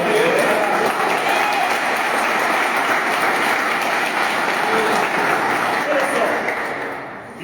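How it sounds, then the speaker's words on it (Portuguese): A church congregation at a live preaching service applauds, a loud, dense, continuous wash of clapping that holds steady for about seven seconds before fading slightly at the end, with a voice faintly over it. "Dá uma salva de palmas, querido"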